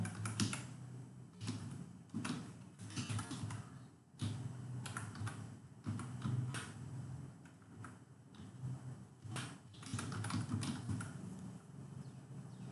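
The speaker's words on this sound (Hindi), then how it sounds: "यहाँ पे आपका ईमेल आईडी एंटर करना है" Rapid, uneven clatter of keys on a computer keyboard as an email address is entered into an online Aadhaar exam form, close and fairly quiet, with short pauses between bursts and no talking.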